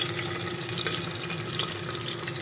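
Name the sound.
green chillies and tomato frying in a pan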